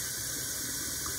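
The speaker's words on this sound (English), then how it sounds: "We're going to wash it with cold water to start." Cold tap water runs steadily over a tie-dyed shirt being rinsed in a sink, giving a continuous, even hiss with a faint squeak near the end and no voices.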